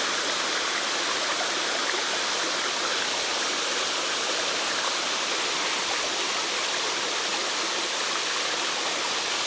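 A waterfall and flowing stream at Hazelbrook give a constant, dense roar of rushing water, steady and close throughout, with no voices.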